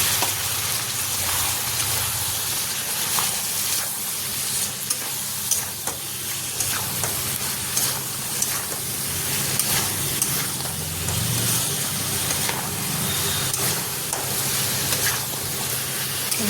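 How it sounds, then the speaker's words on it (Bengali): Chicken masala and onion paste fry in a pan for chicken jhol, giving a loud, continuous sizzle with scraping stirs throughout. "পেঁয়াজ বাটা দিয়ে দিয়েছি, চিকেন মশলা দিয়ে দিচ্ছি, ভালো করে কষাতে হবে"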